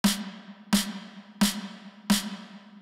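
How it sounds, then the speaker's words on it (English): D&B snare drum through a heavy default reverb patch: four evenly spaced, sharp snare hits, each followed by a long, washy reverb tail that nearly fills the gap before the next strike. "If I just quickly load the default patch, the snare will sound like this."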